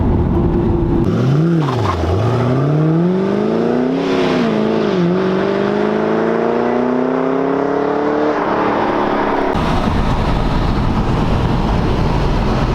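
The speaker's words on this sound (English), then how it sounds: "that was a pretty decent pull through the first and second gear" A Ford Mustang GT accelerates hard through first and second gear, engine rising in pitch, a brief dip at the upshift, then climbing again before lifting off, loud and continuous from inside the car.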